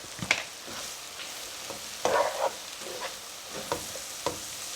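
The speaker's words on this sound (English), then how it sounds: "And now just let the eggplant finish cooking down." Eggplant with pinto bean seasoning sizzles and cooks down in a pan for keto refried beans, a soft steady frying hiss broken by occasional stirring scrapes and clinks.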